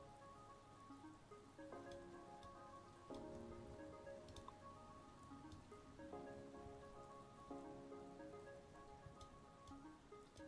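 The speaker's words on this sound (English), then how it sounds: "it's raining acid at the moment" Acid rain pours steadily in the post-apocalyptic farming game Doloc Town, a soft continuous patter under gentle looping background music, with no talk.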